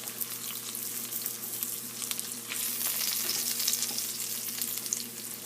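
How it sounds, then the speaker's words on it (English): Almond flour stirred into hot olive oil in a pan gives a steady close sizzle and frying crackle, with scraping stir strokes growing a little louder partway through. "now I'm going to add in my almond flour. And then just kind of mix that up."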